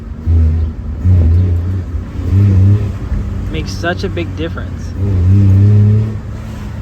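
A kei truck engine fitted with an aftermarket intake revs up loudly in repeated bursts, rising and falling in pitch, while someone speaks briefly between the revs.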